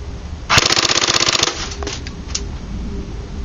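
An A&K M60 airsoft machine gun on a 9.6 volt battery with a mosfet override plug fires one loud, rapid full-auto burst of 0.2 gram BBs lasting about a second, then trails off into quiet room noise.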